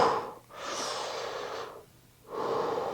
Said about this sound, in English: we're just breathing into this right side of the rib cage again.